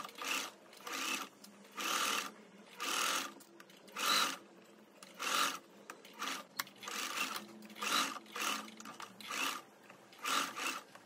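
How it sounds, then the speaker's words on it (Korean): Sewing machine running in repeated bursts of stitching, topstitching along the folded seam allowance of a linen summer dress facing, each run about a second long with short pauses between, close and steady, no voices. "시접을 안단 쪽으로 꺾어서 그 위에 한번 탑 스티치를 해줍니다."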